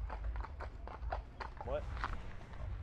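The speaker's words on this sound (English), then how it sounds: "Horses are stupid." A horse's hooves clip-clop in a steady rhythm at moderate distance while people talk over it.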